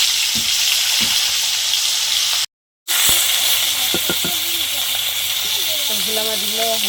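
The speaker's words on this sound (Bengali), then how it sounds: "মাছগুলো ভেজে নেব।" Bhola fish frying in hot oil in a kadai, a steady loud sizzle and hiss throughout, briefly cut to silence near the middle, with a few clinks and faint background sounds over it.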